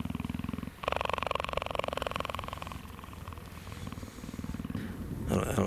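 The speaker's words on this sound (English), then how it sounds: "She says yes, in a purr language." Cheetah purring while being scratched, a loud close rhythmic rumbling purr pulsing steadily throughout with brief pauses and shifts in intensity.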